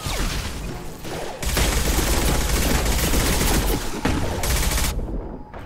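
Heavy, sustained gunfire from a Mass Effect 2 firefight on Insanity difficulty, a dense loud fusillade of rapid shots with booming impacts that drops briefly, resumes at full force, then cuts off near the end.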